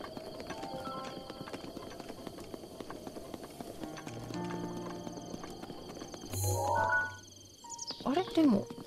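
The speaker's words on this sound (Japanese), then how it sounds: "あんなマダラウマさっきいなかったよね" Hoofbeats of a spotted horse in the video game Zelda Breath of the Wild, a soft clip-clop under outdoor ambience with chirps, game chimes and a brief whinny-like sweep, while a player speaks.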